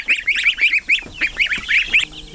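Young goslings and other same-age baby birds peep in a quick run of high, rising chirps, close and loud, about a dozen calls in rapid succession.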